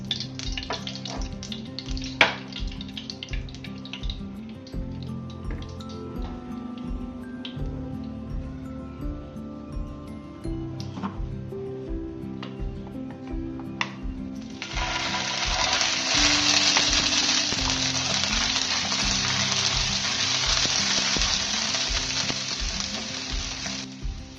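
Ghee in a pan for coconut mango barfi, with frying and sizzling close up and faint stirring clinks over a low hum. Partway through, the sizzle surges into a much louder, dense hiss that holds steady to the end.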